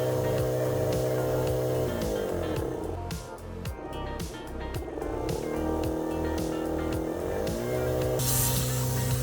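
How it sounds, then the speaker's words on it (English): An air compressor running a test for a 60W laser engraver gives a steady, close airflow hiss over a tonal motor hum, with the pitch shifting a few times as it runs. "The compressor is powered on, so let's do a quick test."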